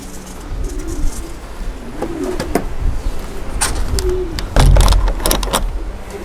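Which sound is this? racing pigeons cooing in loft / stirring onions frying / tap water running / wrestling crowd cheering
racing pigeons cooing in loft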